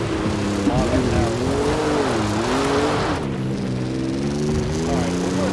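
A 2021 Ford Bronco's engine drones and revs during an off-road hill climb in Forza Horizon 5, its pitch rising and dipping with gear shifts, steady and loud, while someone talks over it.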